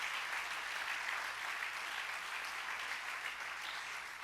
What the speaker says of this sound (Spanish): Dale un buen aplauso a Jesús.